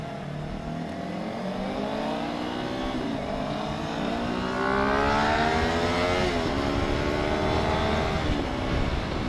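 A car engine revs and accelerates past at close range, rising pitch sweeps swelling loud over steady traffic rumble, heard alone without talk.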